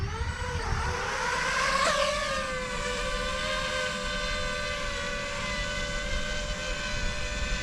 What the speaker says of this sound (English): All 4 motors are going.